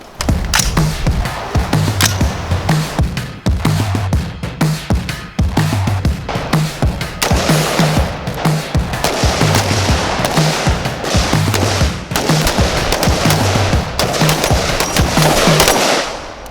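Guns fire at a shooting range in rapid, loud, close bursts of sharp shots that repeat steadily for the whole stretch, with no talking.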